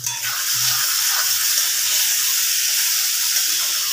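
Chili is dropped into a hot pan while papaya dalna cooks, giving a loud, close, steady sizzle and hiss that starts abruptly and holds evenly, with no talk.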